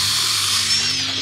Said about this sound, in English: we're drilling holes about every 3 to 4 inches